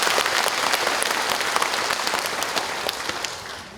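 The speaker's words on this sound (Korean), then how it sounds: "여러분 박수 한번 주시죠." An audience at a Korean civil-military forum claps loudly and steadily for presenters being introduced. The applause is dense and sustained and fades slightly toward the end.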